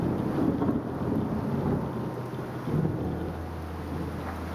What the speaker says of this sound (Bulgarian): Навънка времето е отвратително, вали, трещи.